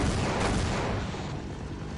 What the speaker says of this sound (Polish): Ło, helikopter!